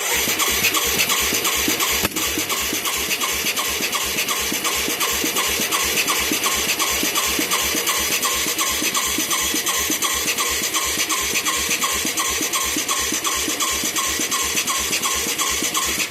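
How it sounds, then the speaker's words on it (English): A Yamaha YFM200 Moto 4 ATV engine pops back through the carburetor in a fast, even chugging rhythm that runs on steadily and loudly, with nobody talking. "The way it's popping, though, it's popping through the carburetor."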